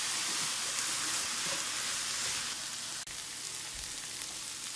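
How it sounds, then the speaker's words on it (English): Chicken fried rice with soy sauce frying in a pan gives a steady, bright hiss of sizzling oil that runs continuously, with one brief scrape or tap partway through. "now it's been frying for about 5 minutes"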